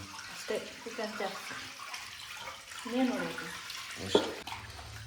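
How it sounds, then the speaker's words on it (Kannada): Raw chicken chop pieces washed in a perforated strainer under running water produce a close, uneven splashing and trickling, with voices talking over the water. "ನಮ್ಮಮ್ಮ ಇಲ್ಲಿ ಚಿಕನ್ ತೊಳಿತವ್ರೆ"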